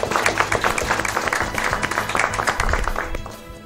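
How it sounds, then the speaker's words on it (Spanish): Studio audience on an Argentine TV program applauding steadily and fairly loudly for several seconds, dense clapping that tapers off toward the end, with no talk over it. "¡Vamos con los aplausos!"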